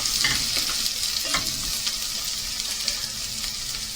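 Ingredients for a Moroccan-style wild rabbit tagine frying in a pan, with a steady close sizzle and a few soft scrapes of stirring running throughout, no voices.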